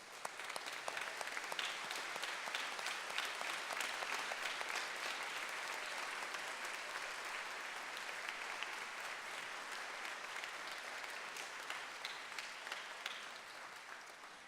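Sustained applause from a concert audience at a middle school honor band concert, a dense even clapping that holds steady for the whole stretch and tapers slightly at the end.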